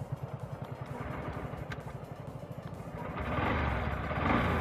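A Honda SP 125 BS6 motorcycle engine starts and settles into a steady, close-up idle with a regular low thumping pulse that grows slightly louder and fuller near the end.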